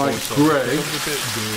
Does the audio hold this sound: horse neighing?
no